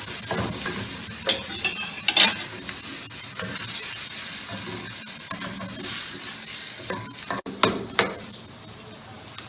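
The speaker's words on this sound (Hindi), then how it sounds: "अभी तो हम प्याज कच्ची पक्की कर रहे हैं।" Onions sizzle steadily in a hot pan, with a few scrapes and clinks of a spoon stirring now and then; no voices.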